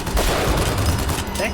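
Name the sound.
gunshots from a video game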